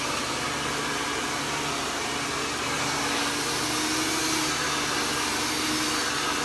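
Hair dryer blow-drying hair, a steady loud airy whoosh with a low motor hum running unbroken throughout, heard alone with no talking.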